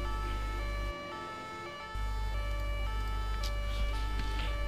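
Ambulance siren in GTA 5, a steady wailing tone held over a low engine rumble, briefly cutting out for about a second before resuming, loud and close with no talk.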